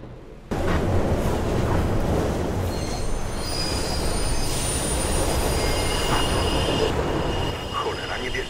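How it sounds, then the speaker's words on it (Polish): A train rushes through a tunnel in the video game Mirror's Edge, its wheels squealing loudly and steadily as it passes close by, alone for most of the stretch after a sudden start. "plecami masz pociąg, zmiataj stamtąd."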